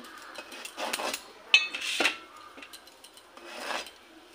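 Knife cutting bottle gourd and other vegetables in a home kitchen, a few scraping, rasping strokes with one sharp clack, moderately quiet with no talk.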